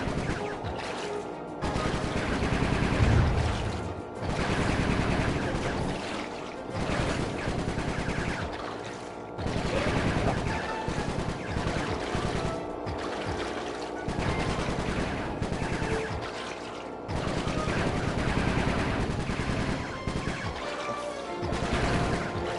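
Rapid gunfire in the Sly 3 video game, dense bursts and volleys running almost continuously over a busy game soundtrack, loud and close throughout.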